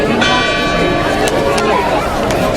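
A church bell rings steadily from a bell tower at an outdoor tree lighting ceremony in Franklin, North Carolina, loud and continuous with a crowd murmuring beneath it.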